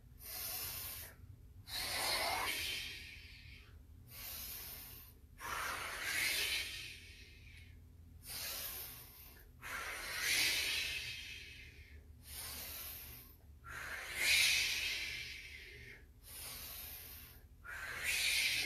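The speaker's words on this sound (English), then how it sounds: "those breathing exercises allow you to go ahead and move that oxygen through" Deep, forceful breaths during a workout primer, each long whooshing inhale or exhale followed by a brief pause, repeating steadily about a dozen times, close to the microphone with no other sound.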